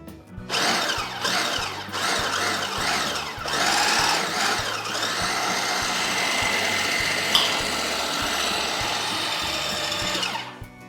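Sweet potato hummus whirring in a blender or food processor as about half a cup of olive oil is added, a loud steady motor drone with shifting pitch that runs nearly the whole time, then cuts off at the end.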